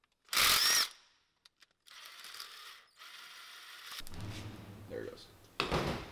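A ratchet with a 10 mm socket works the cover bolts off a 2012 Honda CR-V during a VTC actuator replacement, with a loud burst and then bouts of close clicking ratcheting, and brief talk near the end.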